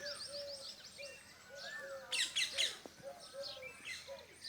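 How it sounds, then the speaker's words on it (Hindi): Faint birds chirp and whistle in the distance, several overlapping calls with a brief louder burst of twittering in the middle. "सभी पक्षियों की आवाज़ भी आती है, जैसे कोयल, चिड़िया, कबूतर, मोर।"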